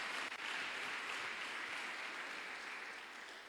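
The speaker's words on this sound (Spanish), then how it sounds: "Démosle un aplauso al Señor." A church congregation claps in dense, steady applause through a devotional service, filling the whole stretch at even loudness with no voices on top.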